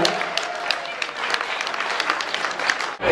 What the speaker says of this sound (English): Talk about a round of applause for